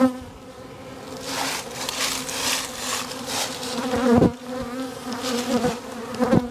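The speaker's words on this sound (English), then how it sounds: "And a bunch of mad bees" Dense, agitated buzzing of many honey bees swarming close by, a steady loud drone with sharper bursts as individual bees pass near.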